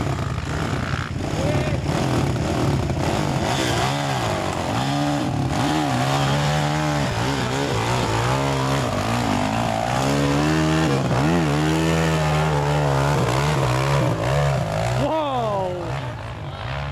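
A jeep engine at an off-road jeep motor festival in 2012 revs and strains continuously and loudly, pitch rising and falling with throttle, while people shout and talk over it nearby.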